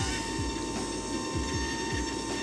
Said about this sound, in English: moving about on the power seat, making a whirring sound